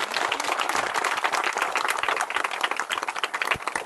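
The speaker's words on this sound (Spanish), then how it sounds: "Entonces un fuerte aplauso Pai Julio." Dense applause from a sizable church congregation fills the space, steady and sustained throughout without a break.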